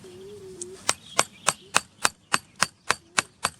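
Eleven sharp metallic strikes of a hammer on a tent anchor stake, evenly spaced and steady, close by, after a brief quiet start.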